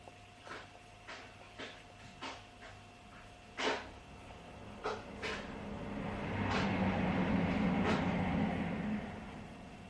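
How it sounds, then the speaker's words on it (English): A long broadband rumble from a passing train swells in the background and holds for several seconds, with scattered sharp knocks and clicks nearby over it. "You might have just heard the train going past there."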